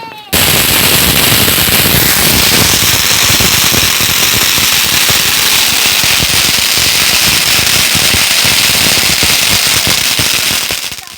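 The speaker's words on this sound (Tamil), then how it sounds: "நல்லா நிறைய பட்டாசு சூப்பராக போட்டுட்டு" A long chain of Diwali firecrackers bursts loudly and continuously at close range, a dense rapid crackle of explosions lasting about ten seconds before cutting off.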